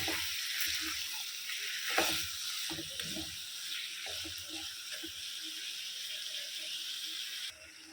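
Masala-coated chicken sizzling and frying in a pan, with a spoon stirring through it in irregular scrapes and clacks over a steady hiss, close and fairly loud throughout with no talking.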